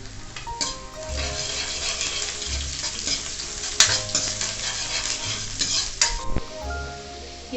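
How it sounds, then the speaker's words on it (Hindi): Onions with a pinch of asafoetida sizzle steadily in a pan for kadhi pakoda, with continuous frying hiss, spoon scrapes and an occasional clink against the metal. "ये प्याज हो गए भुनकर तैयार"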